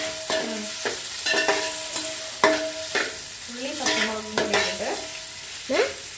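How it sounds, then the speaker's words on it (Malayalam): Onions and green chilies frying in a pan for chicken curry, stirred with repeated scraping strokes over a steady sizzle, close and clear. "പച്ചമുളക് നല്ല ഇളക്കണം."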